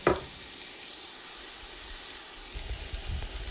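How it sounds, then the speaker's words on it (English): Finely chopped onions sautéing in a pan with a little oil, giving a steady, close sizzle and hiss throughout, with a brief stir clatter at the start and some low rumble near the end. "I'm going to saute the onions until they're nice and soft"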